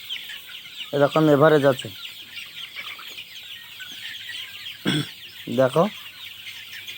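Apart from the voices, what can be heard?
domestic chickens clucking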